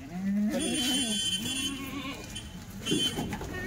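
Goats bleat on a farm, with one long, wavering cry near the start and a shorter call a little later, both fairly close over a steady background.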